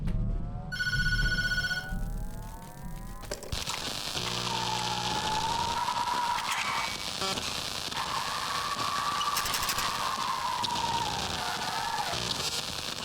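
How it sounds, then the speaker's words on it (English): A telephone rings in the horror video game Tattletail, a loud electronic ring followed by buzzing, droning game ambience with a wavering tone that keeps running to the end. "you head back upstairs and the phone begins to ring"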